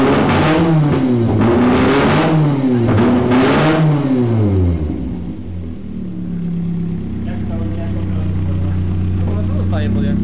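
Toyota AE92 with a 4AGE 20V blacktop engine that hiccups, revving up and down in several loud, close bursts before settling into a lower, uneven idle, with voices talking over it.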